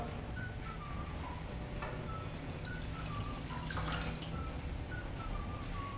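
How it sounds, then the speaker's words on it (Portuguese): Warm water is poured over dry baker's yeast in a kitchen while preparing dough for steamed Chinese buns: a soft, steady trickle and light splashing, fairly quiet, with no voices. "Vou colocar a água morna."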